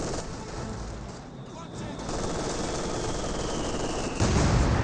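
MG42 machine gun fire in Company of Heroes 2 forms a continuous dense battle din of rattling shots and rumbling noise, fairly loud and swelling near the end, with a voice speaking over it.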